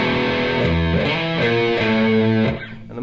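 A distorted electric guitar plays a riff slowly, with picked notes ringing loud and near in a steady pattern and no talking.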